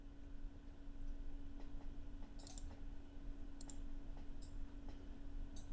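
Mouse clicks while formatting text rotation in a Google Sheets spreadsheet: a few sharp, light clicks spaced irregularly over a steady low hum, close and fairly quiet.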